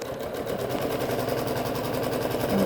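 A sewing machine stitches a quilt made of 9-patch blocks, its motor running with a steady, fast mechanical rhythm from start to finish, close and fairly loud, with no talking.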